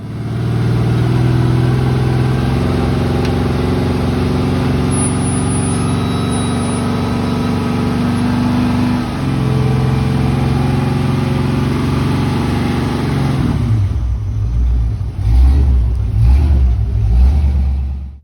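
A truck engine revs loudly and continuously while the truck plays in a ditch, a deep steady roar with shifting pitch that drops lower near the end.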